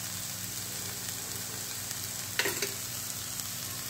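Karela frying with salt, turmeric, coriander and red chilli powder, a steady close sizzle with a couple of brief stirring scrapes partway through, no voices.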